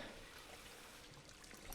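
A tap runs steadily in a video game, a faint continuous trickle and splash of water with no voices over it.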